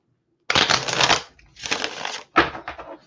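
Three bursts of papery riffling, close and crisp, as a deck of tarot cards is shuffled repeatedly with brief pauses between.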